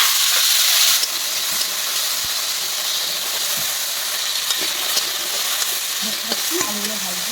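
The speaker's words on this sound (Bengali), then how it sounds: "তেলের মধ্যে আমি একটু আলুগুলোকেও ভাজা করে নেব।" Potatoes fry in hot oil in a pan just used for bitter gourd. A loud, steady sizzle is strongest for the first second, then settles into a constant hiss with occasional light stirring clinks.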